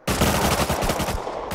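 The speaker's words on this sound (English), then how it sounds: "I'm gonna hip fire." Automatic gunfire fired from the hip in the video game Rust, a loud, rapid burst of shots that runs continuously and up close for over a second with no talking.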